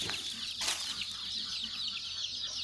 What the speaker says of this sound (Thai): ไก่ชุดนี้ก็เป็นไก่ที่อยู่ในสวน